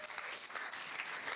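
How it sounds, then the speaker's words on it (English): A round of applause greets a company CEO at an in-person sales event, dense clapping from a crowd, fairly faint and brief. "So let's have a round of applause for Owen, please."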